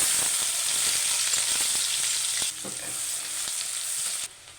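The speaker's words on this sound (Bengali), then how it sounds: "পেঁয়াজটা হালকা বাদামি করে ভেজে নিয়েছি।" Chopped onion fries in oil with cumin, cardamom and a bay leaf, a loud close hiss that drops in level partway through, with occasional spoon taps and stirring scrapes and no talk.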